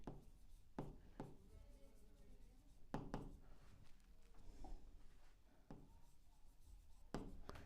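Chalk or marker strikes and scratches on a board while a set-builder form lesson is taught, a series of faint, sharp taps and short strokes spaced irregularly in a quiet room.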